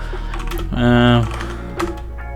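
Computer keyboard keys click briefly and the Enter key is pressed while someone talks over the typing.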